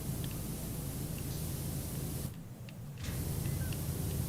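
A pressure washer with a swirly nozzle sprays in the PowerWash Simulator video game, a steady loud hiss of water that briefly drops out near the middle before resuming.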